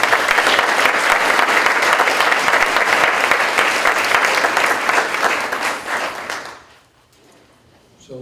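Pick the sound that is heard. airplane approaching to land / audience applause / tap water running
audience applause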